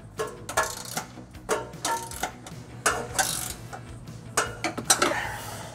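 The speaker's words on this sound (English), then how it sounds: "I'm going to tighten these snug using a 19 millimeter wrench" A 19 mm wrench tightens trailer hitch bolts on a 2021 Chevrolet Trax, giving a run of close, irregular ratcheting clicks and metallic clanks in short bursts, with no talking.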